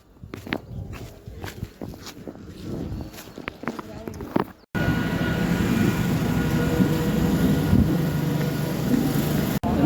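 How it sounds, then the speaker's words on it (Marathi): Footsteps crunch along a railway track near Nalasopara, then a train abruptly roars past close by with a steady, heavy rumble and clatter of wagons that fills the rest of the scene. "मित्रांनो भेटला आता आपल्याला ट्रेन."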